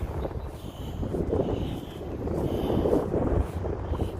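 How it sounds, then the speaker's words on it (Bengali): Strong gusty wind roars across the microphone in an open park, a steady loud rumbling buffet that swells and eases throughout with no voices heard. "প্রচণ্ড হাওয়া হাওয়াতে একদম চোখ মুখ লাল হয়ে যাচ্ছে প্রচুর হাওয়া"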